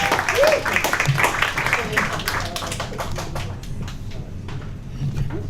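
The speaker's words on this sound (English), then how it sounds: "clap it up, clap it up, clap it up" An audience claps and applauds for a performer at a spoken-word mic event, a dense burst of clapping that thins out over several seconds while someone talks over it.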